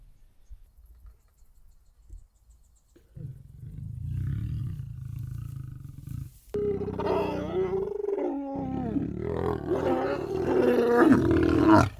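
A lion roaring in the African wild, a deep rumbling roar rising from quiet into sustained loud bursts and grunting pulses, close and strong, with no talk over it.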